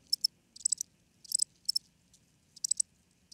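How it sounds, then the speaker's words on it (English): Crickets chirp in short, evenly spaced pulsing bursts over a faint low background hum, with no other sounds. "he was just dying to use the cricket sound effect"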